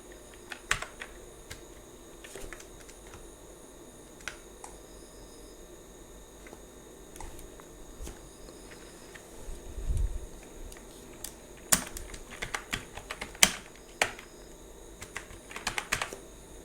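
Computer keyboard being typed on, scattered light key clicks over quiet fan hiss, with denser bursts of keystrokes toward the end.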